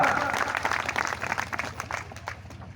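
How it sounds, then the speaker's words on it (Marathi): A crowd at a Marathi village gathering claps in honour of Sharad Patil, a dense burst of applause that runs for the whole moment and thins slightly toward the end, with a voice faintly mixed in. "शरद पाटील यांच्या नावाने टाळी वाजवा."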